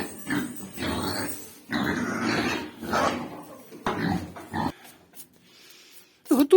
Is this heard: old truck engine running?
no